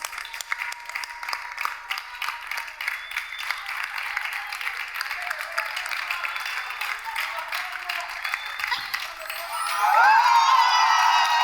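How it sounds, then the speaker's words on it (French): Studio audience applauds and cheers on a French dating show's final round, a steady dense wash of clapping with whoops that swells louder near the end. "sous vos acclamations"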